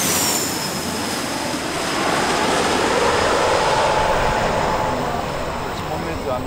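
A jet airliner landing at Itami Airport, as heard from the Senri River bank, makes a loud, continuous broadband roar that swells through the middle and stays close and heavy throughout.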